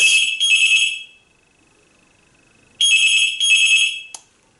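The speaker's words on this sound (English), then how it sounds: "Sorry about that, got a phone call." A telephone rings with an electronic trilling tone, two bursts, then a pause with a faint steady tone, then two more bursts and a short blip, loud and close with no one talking.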